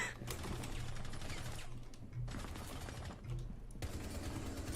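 Volleys of rapid gunfire from a firing squad in a video game, a dense crackling barrage that stays loud and continuous, with short gaps, through most of the moment.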